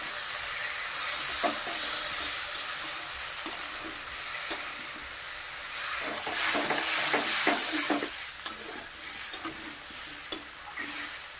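Flat beans, potatoes and peas fry in a pan with ground spice paste, turmeric and salt, giving a steady close sizzle with scattered stirring scrapes and clicks throughout, no voices.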